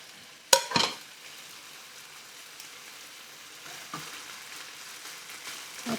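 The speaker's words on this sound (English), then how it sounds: "I'm going to toss in the egg, or top it off." An egg hits a hot pan of moo shu pork with a sharp splat and a quick stir, then settles into a steady, close sizzle and crackle that runs alone to the end.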